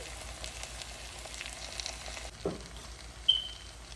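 Sago upma with tomato pieces being stirred in a frying pan: a faint, steady sizzle, one short scrape of the spoon midway and a light click near the end.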